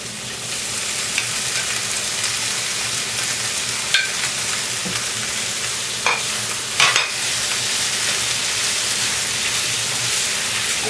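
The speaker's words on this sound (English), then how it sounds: "I cook tomatoes till it softens completely." Tomatoes cooking in a hot pan for mushroom mutter masala give a loud, steady sizzle, broken by a few stirring clinks and scrapes near the middle.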